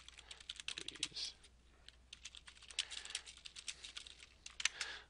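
Someone types on a computer keyboard, a quiet, quick patter of key clicks in uneven bursts with brief pauses.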